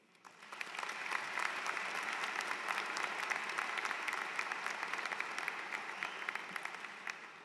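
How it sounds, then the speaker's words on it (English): A large crowd applauds at an undergraduate business and STEM graduation ceremony, a dense, steady wash of clapping that swells in within the first second and holds evenly for several seconds without voices. "everyone here deserves a round of applause for their contribution in our success today"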